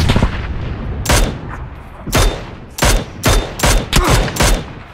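Rapid bursts of gunfire in the video game PUBG crack repeatedly in quick clusters, loud and close, with a few separate shots between the volleys.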